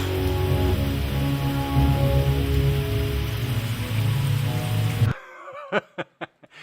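Steady rain pours in an animated scene under a low musical drone for about five seconds, then stops abruptly, leaving a few short voiced sounds like chuckles.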